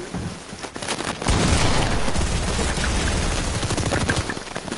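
Sustained rapid minigun fire in a Fortnite match, a dense continuous roar of shots that starts after a brief quieter moment and runs loud to the end, with faint game sounds underneath.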